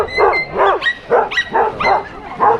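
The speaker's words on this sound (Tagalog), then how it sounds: "Kinakahulan niya yung aso na yan." Dog barking repeatedly at another dog outdoors during a picnic among flowers, a close, loud series of about five sharp barks in an even rhythm with no talk.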